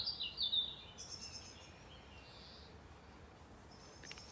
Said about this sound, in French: Je reçois le chant des oiseaux.